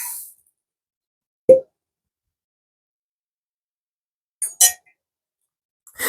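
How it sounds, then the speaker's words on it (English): A single hollow pop as a cork comes out of a whiskey bottle, followed by a few faint clinks of glass in an otherwise quiet room. "Now let me pop this cork real quick again."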